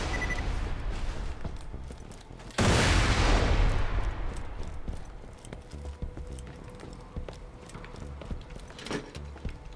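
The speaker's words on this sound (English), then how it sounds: "The hell is that shooting me?" Gunfire in the video game Borderlands 2, a sudden loud burst hitting the player that fades out, followed by sparse clicks and light game effects.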